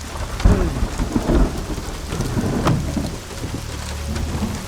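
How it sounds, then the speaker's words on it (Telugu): Heavy rain pours steadily, with deep rumbles of thunder rolling through the downpour; no voices. "ప్రసాద్ అన్నా, ఏందినా ఇంతలా వాన్లో ఈ రాత్రి పూట?"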